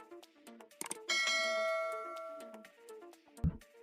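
A bright bell-like notification chime rings out clearly, with a sustained ringing tone that decays over a few seconds among other short electronic blips and dings, and no voices.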